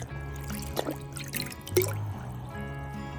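Thick Angelwax H2NO waterless car wash product dripping into a bottle, with a few soft liquid drips and trickles heard close up against a low background hum.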